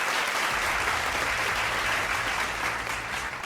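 Audience applause for the judges at a cooking competition final, a loud, dense, continuous roar of clapping from a full crowd with a low rumble underneath, steady throughout.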